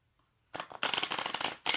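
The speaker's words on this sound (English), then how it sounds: "Maybe I'll shuffle them." Tarot cards are shuffled close up in a few quick bursts, crisp riffling flutters separated by brief pauses, loud and alone after a silent start.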